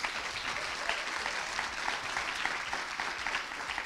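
Steady, dense applause from an audience welcoming the final contestant at a French thesis-presentation contest finale, continuous and even throughout with no voices on top.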